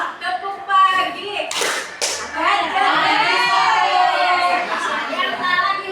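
Children in a classroom clap out a rhythm game in quick bursts of hand claps between spoken prompts and chatter, with an adult and kids talking throughout.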